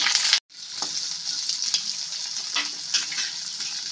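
Diced onions fry in hot oil with ginger, garlic and green chillies, a steady crackling sizzle, close and continuous, with a brief break near the start and occasional soft stirring scrapes.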